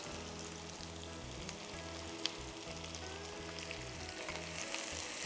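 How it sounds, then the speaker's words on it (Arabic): Garlic and ginger sizzle steadily in a hot pan for chicken kabsa, a dense, continuous frying hiss with a soft periodic scrape of stirring underneath and one sharp click midway. "وأقلب شوي، هضيف الثوم والزنجبيل"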